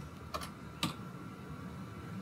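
Typing on a computer keyboard during AutoCAD work, a few quiet, close key taps over a faint room hum.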